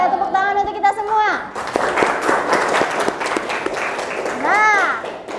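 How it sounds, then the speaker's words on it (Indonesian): Children in a school classroom burst into clapping and cheering after a short spoken exchange. Children's voices stay over the applause, and lively chatter and whoops rise again near the end. "tepuk tangan untuk kita semua"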